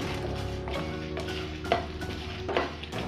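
Grated coconut with garam masala being dry-roasted and stirred in a clay pan, giving soft scraping strokes and light crackle at close range, with a few sharper scrapes against the pan and no talking.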